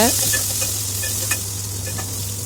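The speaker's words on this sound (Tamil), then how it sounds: "கடுகு பொரிஞ்சதும் வெங்காயத்தை சேர்த்து நல்லா வதக்குங்க" Onions sautéing in oil with popped mustard seeds and fenugreek for a Tamil fish gravy, an even close sizzle with light clicks and scrapes of stirring, a low steady hum underneath.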